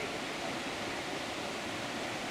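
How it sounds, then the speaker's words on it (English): Groundwater discharge flows out from beneath a leaning tree near a railway landslip, a steady, faint broadband rush of running water with no breaks or other sounds. "This groundwater discharge comes from beneath this very leaning tree"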